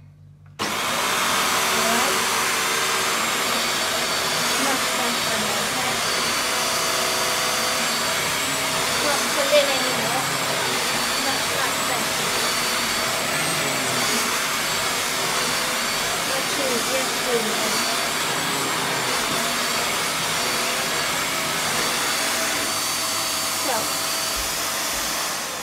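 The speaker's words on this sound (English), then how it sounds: "This is the first video of my new hoover." Vax Air Stretch Pet Max upright vacuum cleaner running steadily, a loud continuous whooshing drone with airy hiss that holds nearly unchanged from start to finish, close to the microphone.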